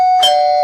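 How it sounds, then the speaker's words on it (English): A doorbell sound effect rings out as a loud electronic chime, one bright tone shifting to a second sustained tone, clear and alone. "I'm freaking your dog out with the doorbell."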